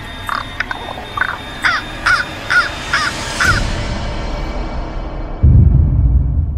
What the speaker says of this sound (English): a raven flies in, leaving the man terrified